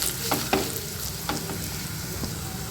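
A spoon stirs turmeric, cumin powder and coriander powder through hot oil in a pan, several scraping strokes over a steady low sizzle, close and fairly quiet with no talk.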